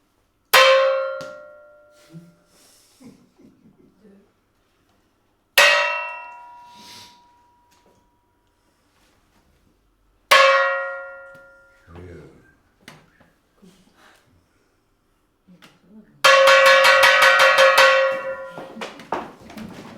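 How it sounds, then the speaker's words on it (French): A church bell rings in the distance with four slow, evenly spaced strokes, each one ringing out and decaying before the next. The last stroke sounds fuller and longer. "Un clocher sonne 10 coups dans le lointain."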